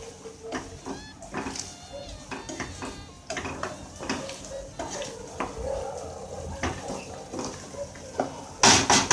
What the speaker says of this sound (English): And this is done on a high flame. We have to keep it stirring.